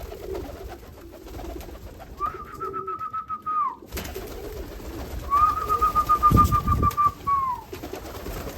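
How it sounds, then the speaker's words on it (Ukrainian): Mirror pigeons coo in two drawn-out, throaty calls from one sitting on eggs, close and fairly loud, with rustling and background noise between them and no talking. "це у нас тут голубок зеркальний на яйцях сидить"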